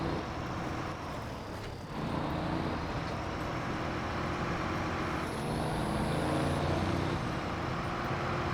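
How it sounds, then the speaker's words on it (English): Truck engines in the SnowRunner game on PS5 drone steadily and loudly, a continuous low rumble that thickens slightly partway through with no talk over it. "Really like the sound of trucks."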